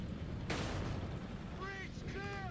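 Artillery fire in Company of Heroes 3 aimed at a tank: a sharp booming blast followed by a rolling rumble, with brief whistling tones near the end over continuous battle noise.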